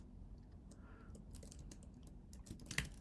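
Keystrokes on a computer keyboard tap in a quiet, irregular run over a low background hum, with a slightly louder cluster of clicks near the end.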